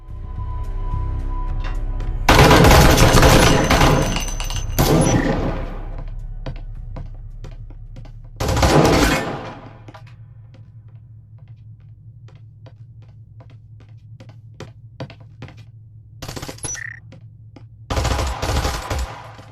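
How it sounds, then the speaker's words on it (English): Gunfire in the VR shooter Breachers, with loud bursts of automatic fire at about 2.5 to 5 seconds and again around 9 and 18 seconds, and sharp single shots and clicks scattered between them over a steady low hum. "offering some of the better positional audio that we've heard in a VR shooter for quite some time, both in gunfire and footsteps"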